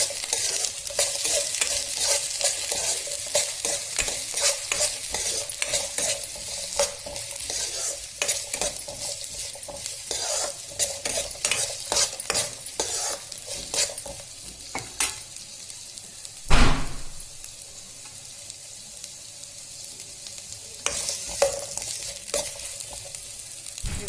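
Carrot pieces and other ingredients for mint rice sizzle and fry in a pan while a spoon scrapes and stirs them in a quick, busy rhythm, with one louder clank partway through.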